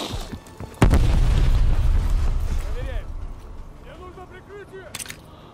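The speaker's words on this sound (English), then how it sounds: "Freaking grenades." A grenade blast in the Call of Duty Cold War campaign: one loud, deep boom with a long rumbling tail, followed by fainter bursts and chirping game effects.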